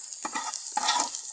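A spice paste fries in a pan while being stirred. Two brief bursts of scraping and sizzling sound close and moderately loud over a soft background hiss.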